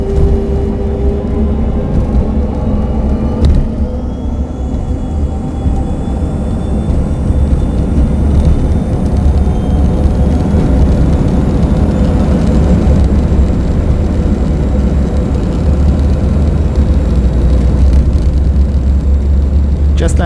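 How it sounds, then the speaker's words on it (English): Sun Air Dornier 328JET taxiing toward runway 23 left at Düsseldorf, heard from inside the cabin as a loud, steady engine rumble and whine that continues throughout, with a voice talking over it. "now we are taxiing to runway 23 left"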